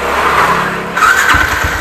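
A 180cc motorcycle engine at a dealer of RCB and UMA Racing parts in Pasig idles with a low rumble, then revs up sharply for a short, loud burst near the listener.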